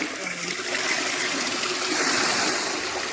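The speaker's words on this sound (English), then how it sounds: "From one tap, we get hot water." Hot water gushes steadily from a bath tap in a resort spa room, a constant close hiss of running water with no voices.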